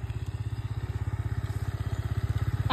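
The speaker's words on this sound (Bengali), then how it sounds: "এই যে চলে এসছে আমাদের বাইক।" A motorbike engine idles nearby with a fast, even, thumping putter that holds a steady rhythm throughout, with no talking.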